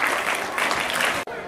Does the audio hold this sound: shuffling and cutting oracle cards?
no